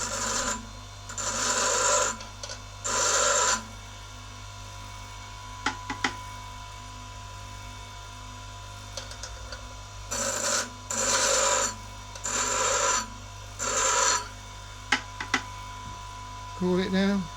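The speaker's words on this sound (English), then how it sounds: "approaching the grinding wheel at an angle" Lathe cutting tool being ground freehand on a bench grinding wheel, tilted at an angle to form the cutting edge: repeated bursts of harsh rasping contact, each lasting about a second, separated by pauses over a steady motor hum.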